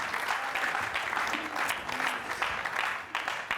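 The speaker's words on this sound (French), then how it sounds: "Est-ce qu'on peut acclamer pour la gloire de Jésus?" A church congregation applauds for the glory of Jesus, loud sustained clapping from many hands mixed with crowd voices, filling the room throughout.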